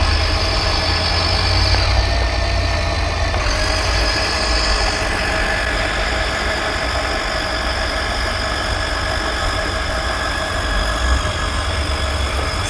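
RC Zingo Racing 9119 1/8-scale amphibious monster truck, pushed along on water by its return jets, heard as a steady, continuous motor whine with a churning hum and no speech.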